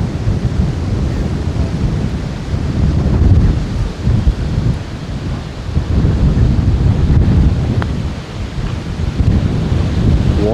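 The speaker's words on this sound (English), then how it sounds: "the wind is solid" Strong, steady wind blows across a golf course at Tenterfield Golf Club, buffeting the microphone with a loud, continuous roar that swells and eases in gusts, with no voices.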